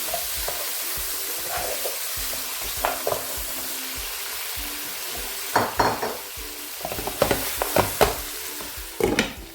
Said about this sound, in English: Some ginger powder. Stir everything.